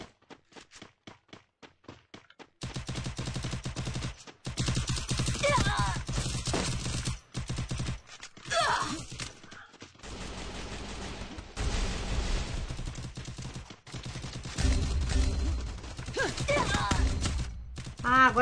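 Gunfire in a shooting video game: loud bursts of shots and fusillades come in clusters over a steady game soundscape, with gaps of near silence between the bursts.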